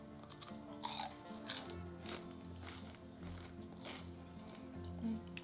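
Close, crisp crunching bites and chewing of crispy fried chicken, several sharp crackles in an uneven rhythm, quiet and intimate.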